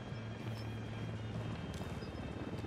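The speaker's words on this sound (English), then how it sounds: "Down! Get down! Chopper!" A helicopter in the video game Ghost Recon Wildlands drones with a steady rotor chop, moderately loud and unbroken, with no talking over it.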